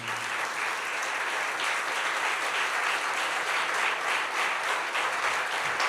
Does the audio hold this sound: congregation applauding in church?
yes